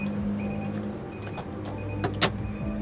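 A camping trailer's hitch lever drops and locks onto the tow ball, giving a couple of sharp metallic clunks near the end over a low idling car engine hum.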